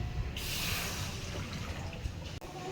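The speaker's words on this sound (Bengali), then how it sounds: "ঝিঙ্গে ডাল রান্না করার জন্য আমি প্রথমে কড়াইয়ের মধ্যে জল দিয়ে দেব।" Water is poured into a kadai for cooking dal, making a loud, continuous rushing splash close by that runs steadily and then tapers off.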